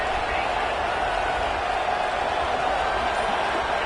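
A roaring stadium crowd in a football video game keeps up a steady, dense wall of cheering and noise without a break.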